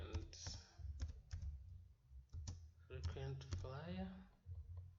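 Clicking keystrokes on a computer keyboard while entering an Excel formula, scattered irregular taps under a person talking throughout.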